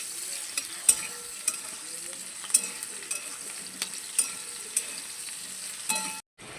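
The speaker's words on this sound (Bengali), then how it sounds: "মশলা দিয়ে দিয়েছি এবার একটু শুধু কষানোর পালা" Spices for a fish curry sauté in a pan, giving a soft continuous sizzle broken by repeated sharp clicks and scrapes of a stirring utensil, then an abrupt cut to silence near the end.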